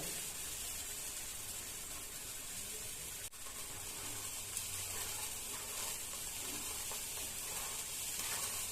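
Mughlai paratha frying gently in a pan over low gas, a steady hissing sizzle that stays even and close, with one brief break in the middle.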